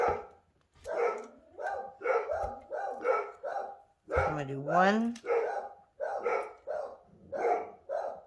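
Several dogs barking in a home, repeated sharp barks and a whining yelp in quick rhythm, close and loud, with a person speaking briefly amid the noise.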